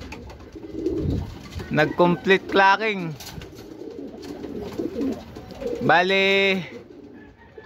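Racing pigeons in a loft coo in a few short throaty bursts at close range, broken up by someone speaking between the calls.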